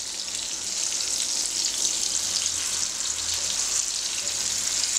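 Fish pieces frying in hot oil in a pan, a steady bright sizzle and crackle close up, constant and even throughout with no talk.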